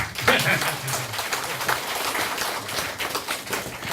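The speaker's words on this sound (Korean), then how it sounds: "박수 한번 치도 되는데" An audience at a book talk with a Buddhist monk breaks into applause, a continuous patter of clapping heard fairly close, with voices mixed in throughout.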